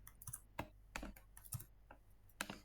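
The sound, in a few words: typing on a computer keyboard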